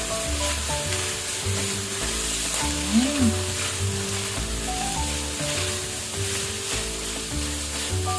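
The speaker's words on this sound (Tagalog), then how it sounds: "Hintayin po natin maprito yung liempo natin" Steady sizzling of pork belly frying in a hot pan, continuous crackle and hiss with occasional soft stirring sounds, close and fairly loud, no talking.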